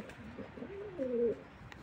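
Pigeons cooing nearby, a brief soft rolling coo that rises in the middle, faint over a low background hiss.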